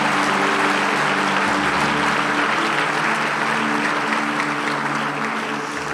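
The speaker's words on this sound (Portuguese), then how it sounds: "Aplauda Jesus onde você está." A church congregation applauds continuously and loudly, a thick wash of many hands over a soft sustained musical hum, holding steady for the whole stretch.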